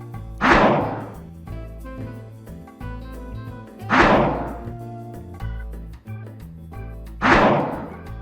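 Attack of the Druid of the Talon unit from the Warcraft 3 video game: three heavy, booming impacts spaced a few seconds apart, each ringing out over a low sustained musical background.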